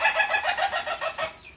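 Ayam ketawa, the Indonesian laughing chicken breed, lets out a rapid, rhythmic string of cackling clucks, close and fairly clear, fading out near the end.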